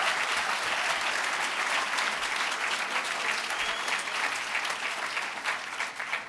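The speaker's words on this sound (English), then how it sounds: "Give our governor another round of applause" Sustained applause from an audience for a state governor at a public announcement event, a dense, steady clapping that holds at full strength before thinning slightly at the end.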